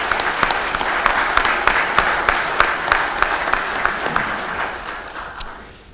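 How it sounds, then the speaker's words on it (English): A room at a parliamentary fisheries and aquaculture committee hearing breaks into sustained clapping, a loud dense crowd patter that holds steady and then tapers off toward the close. "let's give him a round of applause"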